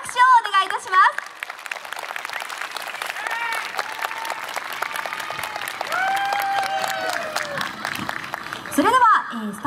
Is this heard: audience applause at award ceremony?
yes